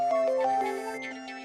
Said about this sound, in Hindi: तुलिका, उस फोन को तुम हैंडल करो।